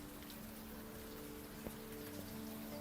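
Steady rain in the Old Skies adventure game, a soft continuous patter with a few faint drips over low ambient hum, fairly quiet throughout.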